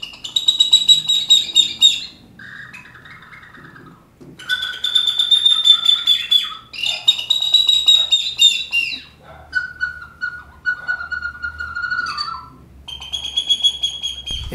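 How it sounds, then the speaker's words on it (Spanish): Bird-like chirps and warbles blown on the mouthpiece of a recorder, shrill whistled phrases of a few seconds each alternating with lower, softer tones, played up close and alone. "Esta es la boquilla de una flauta dulce. Pudimos experimentar algunos sonidos y puede salir algún sonido de pájaro también"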